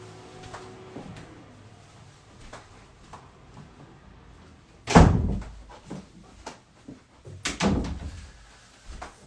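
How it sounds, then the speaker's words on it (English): A room door swings shut with one loud thump in a quiet indoor space, followed a few seconds later by a second softer bump and some shuffling. "I'm just going to close the door one sec."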